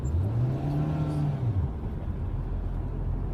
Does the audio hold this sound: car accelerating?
yes